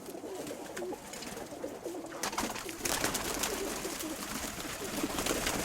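A freshly molted pigeon coos softly and repeatedly. The calls are faint and steady against a quiet indoor background.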